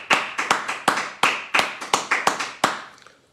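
A small congregation at a French-language church service claps, a dozen loud, close, uneven hand claps in a short burst that trails off, with no talking.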